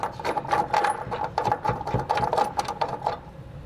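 A nut being threaded by hand onto a bolt while a hidden trailer hitch receiver is installed under a vehicle, giving a quick, steady run of close metallic clicking and rattling with no talk.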